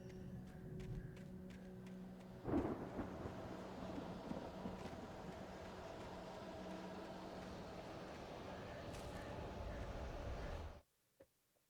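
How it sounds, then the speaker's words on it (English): A thunderstorm in the video game Alan Wake Remastered, a steady rushing roar of wind and rain that holds evenly, with a sharper burst early on, before it cuts off abruptly near the end. "The storm raged on as the Anderson brothers walked unsteadily"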